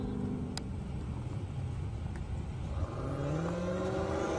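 A Dodge Challenger Red Eye and a Corvette racing down an airstrip, heard as a steady, distant engine drone with rising whine tones as the cars accelerate away.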